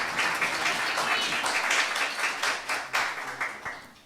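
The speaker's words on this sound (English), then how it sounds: "This is where you clap." Audience applause at a youth awards ceremony in St. Kitts and Nevis, a crowd clapping steadily and fairly loudly for a few seconds, with a few sharper claps standing out near the end and no speech over it.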